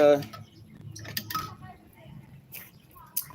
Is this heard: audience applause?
no